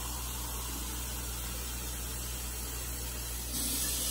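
Hot water runs steadily from a tap, giving a close, even rushing hiss that grows slightly louder near the end, with no voices.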